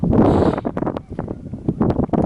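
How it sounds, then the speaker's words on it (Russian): Very strong wind buffets the microphone outdoors in a snowy village where skiers are about: heavy, gusting roar and rumble close up, with no talk. "Ветер на улице, очень сильный ветер."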